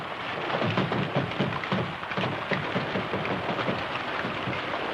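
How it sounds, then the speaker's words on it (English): Steady rain pours down in a broad hiss with dense patter, constant and fairly close, with no voices, in a Western setting. "Holy smokes, it's raining."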